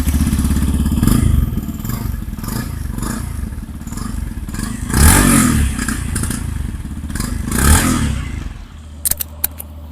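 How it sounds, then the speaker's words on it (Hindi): Yamaha FZS 150cc motorcycle exhaust, a loud close burbling idle with rhythmic throbbing pulses and two short blips of throttle, followed by a few faint clicks as it cuts out. "and talking about the exhaust note of this Yamaha FZS"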